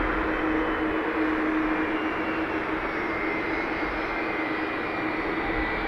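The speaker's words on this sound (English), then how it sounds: "United 757 on taxi." A United Boeing 757 jet taxis at Dublin Airport, its engines a loud, steady whining roar that holds evenly throughout with no voices.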